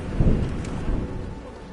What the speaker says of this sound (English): I hate thunder. Crap's so loud.